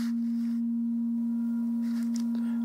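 A steady pure sine-wave test tone holds at one pitch throughout, unbroken and even, with faint room noise around it.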